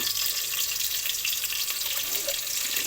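Onion, cardamom, cinnamon, bay leaves and cloves frying in hot oil, giving a steady, close, hissing sizzle that holds evenly throughout with no voices.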